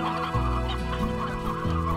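Chickens from the Slime Rancher game cluck in a short run of loud, overlapping calls over steady background game sound, with no voices.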